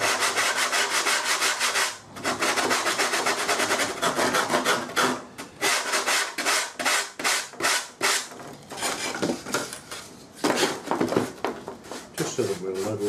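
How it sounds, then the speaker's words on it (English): Steady rasping of sandpaper on wood, repeated back-and-forth strokes in a quick, even rhythm, close and loud throughout. "I think it may need just a little bit of sanding across the top of that"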